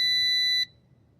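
A G11 Pro drone gives a steady high electronic startup beep that holds for over half a second, then cuts off, leaving near silence.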